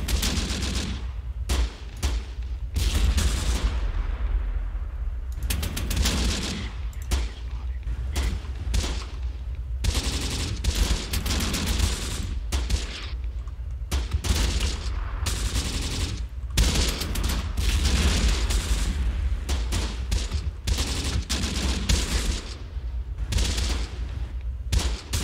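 Heavy machine gun fire in the WWII tactics game Close Combat: The Bloody First during a siege, steady loud bursts over a continuous low rumble of battle, with repeated strings of shots throughout.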